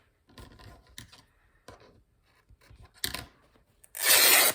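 Linen fabric is torn into strips by hand, giving several short ripping bursts with quiet gaps between them, ending in one long, loud, close tear.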